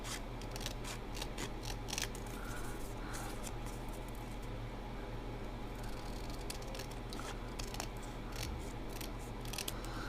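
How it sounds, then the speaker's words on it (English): Rapid snipping of scissors cutting paper, close and fairly quiet, repeating steadily over a soft hiss. "I'm just going to go ahead and trim this with my scissors"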